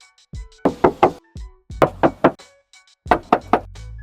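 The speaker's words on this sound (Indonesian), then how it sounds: "Dan untuk bodi sampingnya kita coba tes ketok ya" Knuckles rap on the hollow metal side body panel of a 2023 Suzuki S-Presso automatic in quick groups of two and three knocks, close and sharp, with brief pauses between groups.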